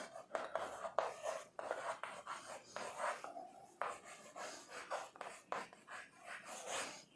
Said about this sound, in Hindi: यहाँ पे लिख दे रहे हैं।